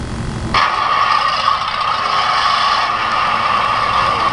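A simulated engine sound on a 1/16 scale die-cast John Deere 5010 RC tractor kicks in after half a second and runs steady with a constant droning tone, loud and close, with no talking.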